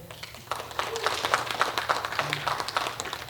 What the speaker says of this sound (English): Them golf ass claps.